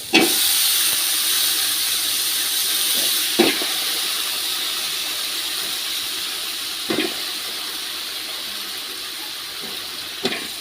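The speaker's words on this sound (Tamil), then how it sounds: "வெங்காயம் தக்காளி எல்லாமே நல்லா வதங்கிடுச்சு" A steady, loud sizzling hiss of onions and tomatoes frying in a pan, continuous throughout, with a few faint clicks of utensils now and then.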